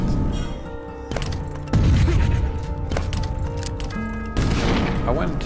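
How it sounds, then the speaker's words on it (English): Layered grenade launcher sounds built from library and Foley assets: a heavy launch thump, mechanical clunks of bouncing and booming impacts, with a dense, crashing explosion near the end. "I built the grenade launcher's distinct sound using library and Foley sounds"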